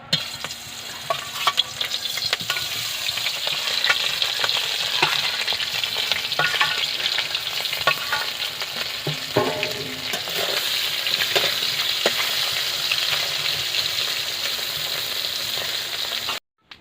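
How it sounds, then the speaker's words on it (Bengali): Fish coated with salt and turmeric frying in white oil in a hot wok, a loud continuous sizzle and crackle held for a long stretch with faint stirring scrapes, close up and with no talking, cutting off abruptly at the end. "এবারে লবণ হলুদ মাখানো মাছ একে একে দিয়ে দেবো।"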